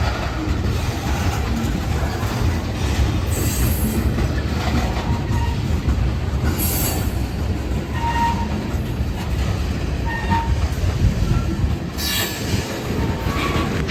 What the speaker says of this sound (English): It also has some interesting cars, like these Burlington Northern Hoppers in the middle of the train.